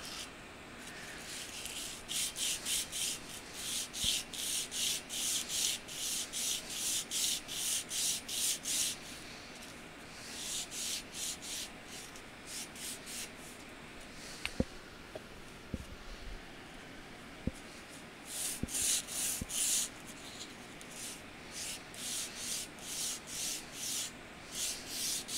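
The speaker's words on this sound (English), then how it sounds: "make sure that the edges aren't too sharp or any burrs sticking out" A linear rail for a DIY CNC machine is deburred along its edges with quick rhythmic rubbing strokes in bursts, soft and close, with pauses and a few small clicks and taps between passes.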